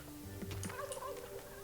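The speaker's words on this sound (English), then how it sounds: "Oh, so many turkeys." Turkeys in the video game Dungeons 3 gobble in a quick burst of warbling calls that overlap one another, moderately loud over a low background hum, with no talking.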